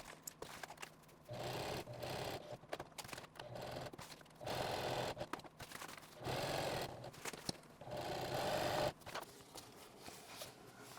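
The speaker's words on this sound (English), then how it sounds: "We're just going to sew 2 box stitches on either side of the strap." A sewing machine runs box stitches into a nylon strap on a 24-litre duffel bag, in several short whirring bursts of rapid needle chatter with quiet pauses between them.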